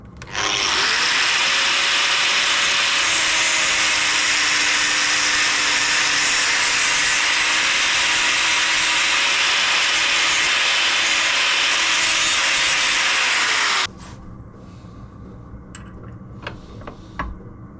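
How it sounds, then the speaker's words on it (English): A powered grinder cuts off overlong metal parts on a DIY enduro motorbike lighting kit, a loud, harsh, continuous grinding with a steady motor whine for about fourteen seconds, then stopping abruptly, leaving faint clicks and handling noises. "grind them off, I think."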